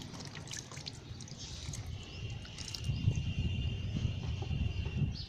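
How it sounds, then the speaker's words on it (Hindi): Excess water drains from the bottom of a potted bitter gourd plant, a soft continuous trickle and patter of drips that grows slightly denser toward the end, close by with light outdoor ambience and a faint bird call. "पानी ये जो एक्स्ट्रा था ये सारा निचड़ के ये नीचे आ रहा है"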